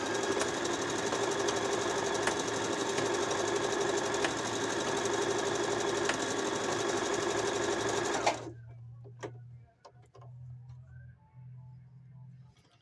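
A Brother multi-stitch sewing machine runs steadily for about eight seconds while sewing a straight seam, giving a loud, continuous mechanical whir and rapid needle clatter that stops abruptly, followed by a low hum and a few faint clicks.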